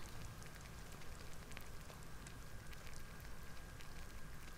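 Steady rain falls in a Skyrim game scene, an even, dense hiss with scattered drop ticks running throughout, fairly faint and with no voices over it.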